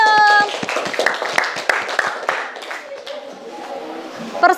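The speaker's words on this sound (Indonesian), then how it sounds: "ya tepuk tangan buat kelompok senyum." A middle-school class gives a short burst of applause for a student group, quick hand claps that thin out and fade as a voice speaks underneath.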